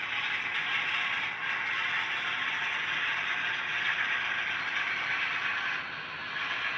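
A model train runs along the track at about track speed, giving a steady, close mechanical whir and rattle with a faint creaking scrape, continuous and without talk.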